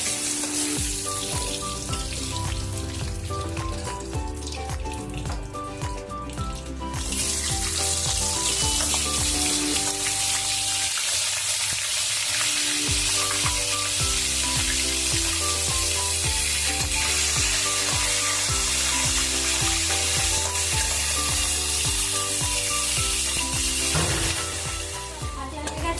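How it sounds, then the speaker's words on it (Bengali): Crab legs fry in oil with a steady, close hissing sizzle that runs throughout, mixed with background music playing over it. "এবারে পাগুলো সব ভেজে নেবো"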